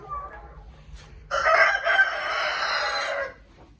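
A Black Australorp rooster on a desi poultry farm crows once, loud and close, a long bright call following softer clucking and faint background noise.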